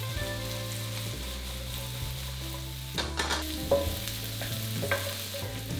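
Mushrooms fry over high heat in a pan for beef bourguignon, a steady loud sizzle running throughout with a few sharper clinks and stirring scrapes midway.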